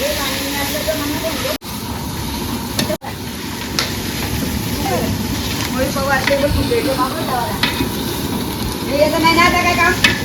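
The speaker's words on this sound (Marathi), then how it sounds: "फोडणी जाता भाजीला." Hot oil crackles and hisses as spices are tempered, a steady sizzle with stirring, while people talk over it nearby.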